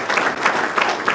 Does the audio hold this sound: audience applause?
yes